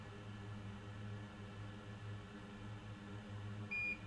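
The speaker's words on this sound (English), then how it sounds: "All right, wait for a beep." A short electronic beep from a soldering tweezers station on an electronics repair bench, sounding once near the end over a steady low hum.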